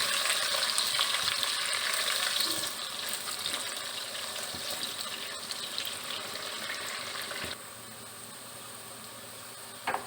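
Onions frying in hot oil for a moong masoor dal gosht, a loud, dense sizzle that runs throughout, easing slightly after a few seconds and dropping lower near the end.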